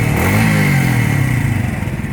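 A Demak Sprinter 125 small motorcycle engine revving close by, a loud steady buzzy drone that rises and then falls slightly, heard alone without talking.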